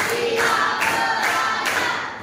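A classroom group performs a rhythmic five-beat clap, crisp collective hand claps landing in regular bursts about half a second apart before fading.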